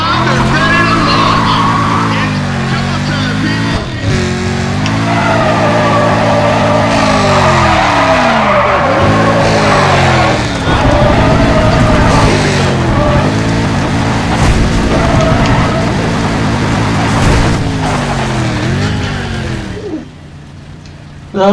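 A car in the Need for Speed ProStreet racing game slides out of control with too much oversteer; loud, sustained tire squeal and skidding over a roaring engine for about twenty seconds, with a voice talking over it.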